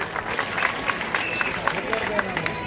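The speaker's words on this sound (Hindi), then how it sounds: "इन सभी सरपंचों के लिए भी एक बार जोरदार ताली बजाएं" A crowd claps for the village heads at a welcome event for an education minister at a college, with dense, steady applause that fills the whole stretch. Background voices murmur underneath.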